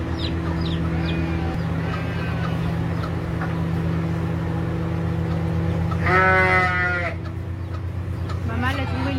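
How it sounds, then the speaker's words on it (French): Young chicks give a few thin, high peeps over a steady background hum, with a louder burst of chirping near the end, heard indoors at close range. "Maman, elle a trouvé les poussins."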